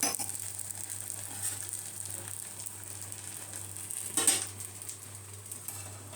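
Godhuma rava dosa frying in a little oil on a hot pan gives a soft, steady sizzle, with a light scrape or clatter partway through and no talking.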